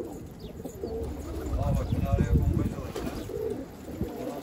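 Domestic pigeons over a rooftop, with soft cooing and fluttering wingbeats close by amid outdoor background noise and occasional distant voices.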